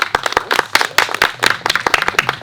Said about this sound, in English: which gives them a round of applause as well